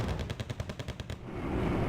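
Rapid automatic gunfire in the real-time strategy game Wargame Red Dragon, a steady rattling burst of closely spaced shots, loud and alone, fading into rumbling background noise.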